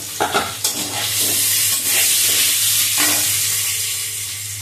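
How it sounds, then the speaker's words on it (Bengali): Egg frying in a pan alongside boiled potatoes, a loud continuous sizzle with a few clattering stirring scrapes near the start and again midway, fading slightly toward the end. "একটু ডিমটা লাল লাল করে ভাজতে হবে।"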